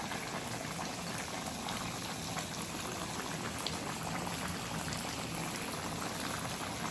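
Broth simmering at a steady boil in a pot while mushroom adobong atay balunan cooks, giving a continuous bubbling, liquid hiss that runs evenly throughout with no talking.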